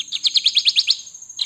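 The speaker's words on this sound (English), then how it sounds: "this is the Kirtland's warbler." Recorded call of a Kirtland's warbler played from an Audubon plush toy bird, a bright, close series of about seven quick chirping notes followed by a brief pause and another note starting.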